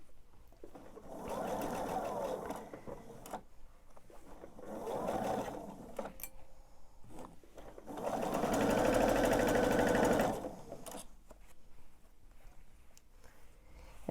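A sewing machine stitches a quilted table runner in three bursts, two short runs and then a longer one, its fast mechanical whir close and clear with quiet pauses between.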